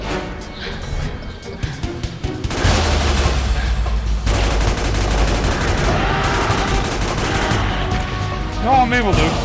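Gunfire in Metal Gear Solid 4: Guns of the Patriots, with bursts of shots and crashing impacts over a dense game soundtrack that turns louder and fuller partway through, some voices mixed in.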